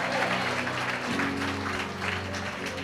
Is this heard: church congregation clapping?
yes